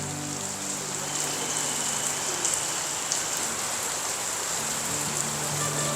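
Steady rain falls at a Thai temple, a continuous close hiss of drops hitting surfaces with no break or change in strength.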